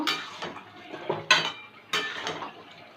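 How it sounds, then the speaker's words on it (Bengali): Metal clatter of a lid set onto a cooking pot of prawn and vegetable chacchari, with a sharp clank followed by a second knock, close and fairly loud over soft kitchen rustling. "এবার ঢাকা দিয়ে সেদ্ধ হতে দেব"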